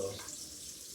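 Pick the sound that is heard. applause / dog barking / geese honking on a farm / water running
water running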